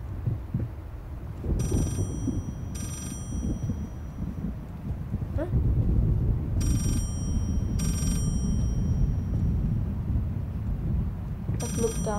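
A telephone in the horror game Layers of Fear rings in three paired bursts of shrill bells, spaced several seconds apart, over a heavy thudding, heartbeat-like low ambience.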